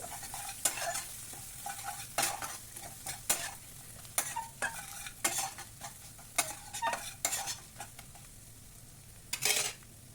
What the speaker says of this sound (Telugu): ఉల్లిపాయలు దోరగా వేగాక చిటికెడు పసుపు స్పూన్ ధనియా పొడి స్పూన్ కారం వేసి దోరగా వేపుకోవాలి